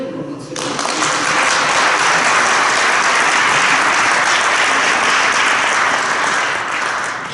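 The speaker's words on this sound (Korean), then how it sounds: "뜨겁게 한번 박수를 드립니다" Loud, full applause from a congregation at a Korean prayer meeting honoring a youth worship team, swelling quickly in the first second and holding strong and even before easing slightly at the end.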